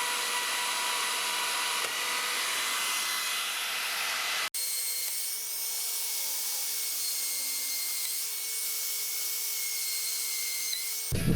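Makita 40v dust extractor vacuum running steadily while holes are drilled, a loud constant roaring suction with a whining tone, preceded by louder combined drilling and suction before an abrupt switch to the vacuum's steady hum alone.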